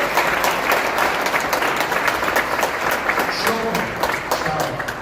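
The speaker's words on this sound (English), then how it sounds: "Let's give them all a round of applause." An audience at a Kosovo Independence Day celebration in New York City applauds councilmembers, with dense, sustained clapping filling the room at a steady loud level and a few voices mixed in.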